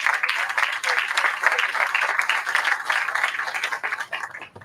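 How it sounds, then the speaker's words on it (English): Applause for elected officials at a groundbreaking ceremony for a senior living community center: a crowd claps steadily and fairly loudly for several seconds, thinning out toward the end, with some voices mixed in. "let's just give a round of applause to all the elected officials who took the time to come"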